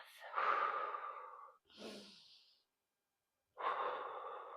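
Slow, deep breaths during a yoga class: a long audible inhale, a shorter breath, a pause, then another long breath. Close and fairly quiet, with no other sounds around them.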